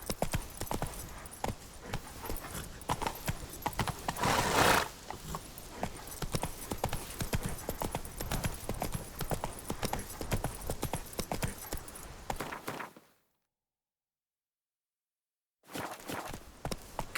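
Roach, Geralt's horse in The Witcher 3, trots and gallops with steady, close hoofbeats that carry on for about thirteen seconds, then break off into a brief silence before the hooves pick up again.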